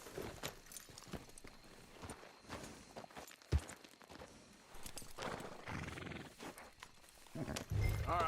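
Horses walking in the Red Dead Redemption 2 video game, with uneven clip-clop hoofbeats on the ground that rise and fall in loudness and a brief whinny-like cry near the end.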